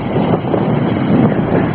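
Waves of Lake Tanganyika washing over a flooded beach in Bujumbura, Burundi, a continuous loud rushing surge mixed with heavy wind buffeting the microphone.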